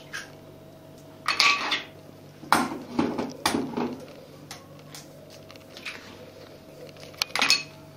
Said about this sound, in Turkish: Şimdi önce bir harcımı karıştıracağım. İki yumurta.